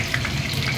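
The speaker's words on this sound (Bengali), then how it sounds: "এইভাবে আরেকটি ধরে তারপরে সবগুলো এরকমভাবে ভেজে নিই" Close, busy sizzling and crackling of chicken pieces frying in oil for dry chilli chicken, steady throughout a short moment.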